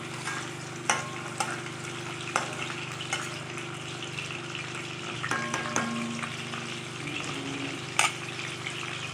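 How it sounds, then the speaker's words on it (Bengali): Dried Bombay duck fish fries in hot oil, a quiet, steady sizzle with a bubbling undertone, broken by occasional soft clicks and taps from stirring. "তেলটা গরম হয়ে আসলে আমি লটে শুটকিগুলোকে ভেজে নেব"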